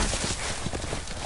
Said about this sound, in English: There goes the horse.